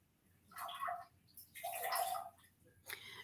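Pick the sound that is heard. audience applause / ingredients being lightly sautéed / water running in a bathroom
water running in a bathroom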